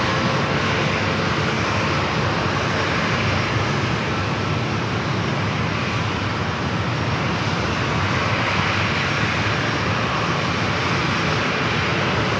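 A jet airliner takes off at San Diego airport, its engines making a loud, steady roar that fills the whole stretch with broadband rumble and no voices.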